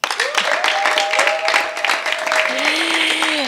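Studio audience applause and cheers welcome a singer onto an acoustic music set, a dense, loud wash of clapping with excited voices and whoops rising over it throughout.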